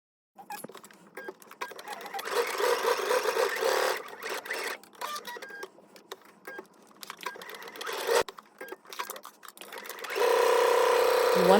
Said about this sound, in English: we're going to go ahead and take this to the sewing machine